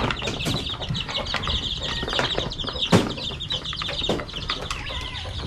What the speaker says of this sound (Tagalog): Dami ng sisiw ni tatay